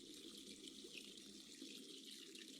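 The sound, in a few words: hot water running into a bath, from a video game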